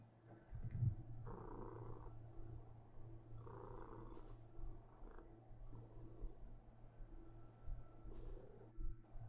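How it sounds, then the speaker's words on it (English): A soft, steady low purr runs throughout, close and faint, with occasional light clicks and rustles over it. "Can you hear the purring?"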